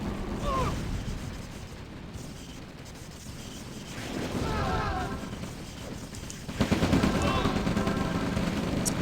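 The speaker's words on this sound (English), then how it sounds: "Look, the artillery can splatter them." Artillery fire and other combat in the strategy game OpenRA Red Alert, a Mammoth tank among the units, with rattling bursts and thuddy impacts building up through the clip and growing loudest near the end, with a commentator's voice over them.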